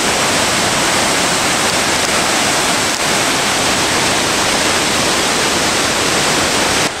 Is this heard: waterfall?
yes